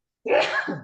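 One abrupt sneeze, close and loud, bursts out during a casual podcast conversation and fades quickly into a short breathy tail.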